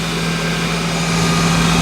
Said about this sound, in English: It's super cold out here today, so it's idling really high.